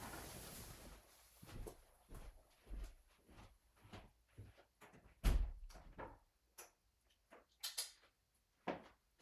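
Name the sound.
door being opened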